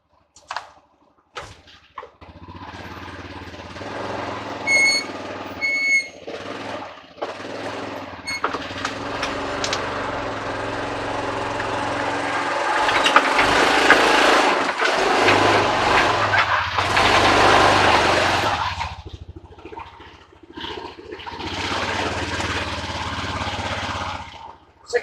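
Motorcycle riding up a ramp into a garage, a steady engine hum with revving swells and rattling in the middle, plus scattered clunks and knocks, fairly close throughout.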